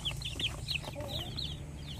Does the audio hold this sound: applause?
no